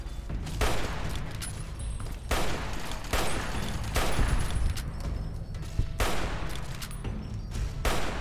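Sustained gunfire in Fallout: New Vegas, several dense bursts of overlapping shots and fusillades roughly every second or two, loud and close, filling the whole stretch with a continuous crackling roar.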